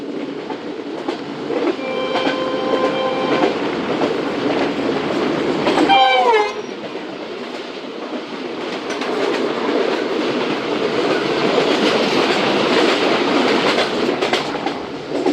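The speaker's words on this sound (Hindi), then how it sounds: "तो डाउन में आ रही है 8 डाउन तेज़गाम" Pakistan Railways 8 Down Tezgam express, hauled by an HGMU-30 locomotive, rushes past on the down line. A loud, steady roar of passing coaches is broken by a brief sharp screech or horn burst midway, then the roar continues.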